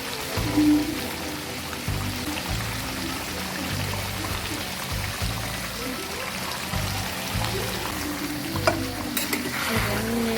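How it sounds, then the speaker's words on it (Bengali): Chicken pieces being stir-fried in a pan with a splash of water, giving a continuous sizzle and repeated scraping strokes at a steady rhythm, close and fairly loud. "এবার আমি প্রায় 6 থেকে 7 মিনিট পর্যন্ত মাংসটা একটু কষাই নিই"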